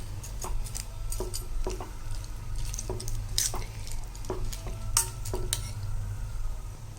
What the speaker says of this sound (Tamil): இதில் நம்ம இந்த சேமியாவை போட்டுடலாம். இதை நல்லா கிளறிக்கணும்.